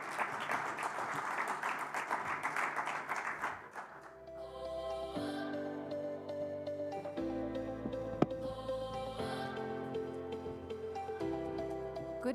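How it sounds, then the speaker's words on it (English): Audience applause for a speaker taking the stage at a Namibia-EU business forum, a dense burst of clapping in the first four seconds that fades out and gives way to music. "Please give her a warm round of applause."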